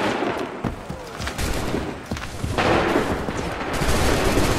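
A musket volley rings out in Assassin's Creed III, a loud, dense burst of overlapping gunshots and booming blasts that carries on with scattered cracks and rumble, alone with no speech.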